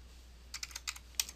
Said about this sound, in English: I'm typing all this information in.